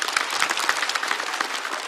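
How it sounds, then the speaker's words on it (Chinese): Studio audience at a Chinese roast comedy show bursts into dense, sustained applause, many hands clapping at once in a steady, loud wash for the whole stretch. "再次掌声送给早安"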